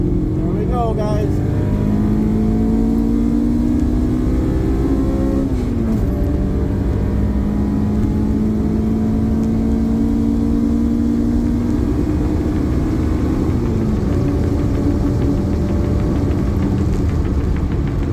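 A car engine is pushed hard through the gears at a trackday on the Vasco Sameiro circuit in Braga, loud and close from inside, rising in pitch and dropping at each shift, with a voice talking over it.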